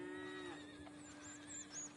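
Horses whinny in Red Dead Redemption 2, a single faint drawn-out neigh with wavering pitch, heard from a distance over a low steady background hum.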